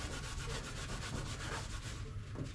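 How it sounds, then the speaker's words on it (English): A red Scotch-Brite pad is rubbed firmly over a Mustang's paint to give it a patina look, producing a dense, continuous scrubbing rasp with a quick back-and-forth rhythm, close and steady. "Some red Scotch-Brite, and I like to just basically rub into this thing."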